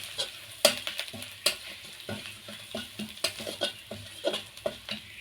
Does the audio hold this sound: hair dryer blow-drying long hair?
no